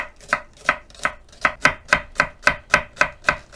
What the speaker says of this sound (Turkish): Zeytinyağlı arpacık soğanda bir adet kuru soğan kullanacağız. Onu da yemeklik olarak ince bir şekilde doğrayacağız arkadaşlar.